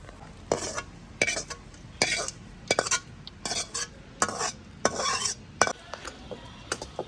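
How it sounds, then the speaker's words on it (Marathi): Nuts and slices being fried in ghee for dink methi ladoo, a spoon scraping and stirring against the pan in repeated clinking strokes, with light sizzling underneath, close and fairly loud, no talk. "आता आपण हे काप पण सगळे जरा तळून घेऊया"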